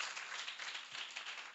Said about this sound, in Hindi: ताली लगाइए एक बार